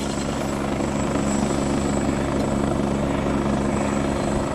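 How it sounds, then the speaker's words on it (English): A helicopter flies near a mountain hut on Taranaki, its rotor and engine a steady, loud, continuous thrum with no break and no voices. "There's a helicopter down there at the hut."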